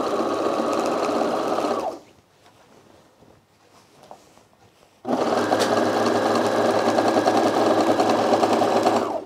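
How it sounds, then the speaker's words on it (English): An overlocker sewing machine overlocking ironing board cover fabric runs in a loud, fast whirring burst, stops for about three seconds of near quiet, then starts again and runs steadily to the end. "All right, so we're just gonna overlock this."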